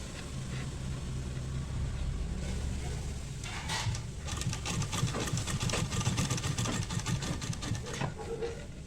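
A sewing machine stitches fabric for a flat collar and folded cuff sleeves, a steady mechanical hum that quickens into rapid dense chatter midway and keeps running loud and close.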